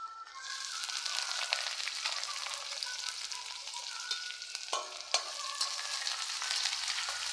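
Garlic and onion fry with dried chillies in a pan, producing a constant bright sizzle up close, with a few sharp pops and scrapes of stirring partway through and no talking.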